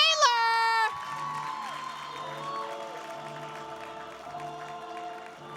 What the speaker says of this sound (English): Start clapping your hands right now. Make some noise right now for your headliner